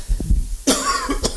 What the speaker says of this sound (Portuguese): Desculpe, dá uma tossezinha aqui.